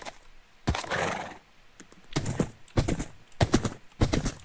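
Bursts of Minecraft horse sounds, a whinny and hoof clops in short groups during survival gameplay, with clicky keyboard-like taps between them and no talking.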